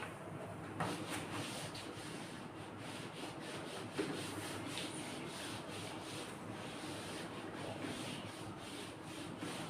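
A board in a chemistry class being wiped clean, a continuous dry rubbing and scrubbing with a steady back-and-forth texture, moderately quiet with no talking.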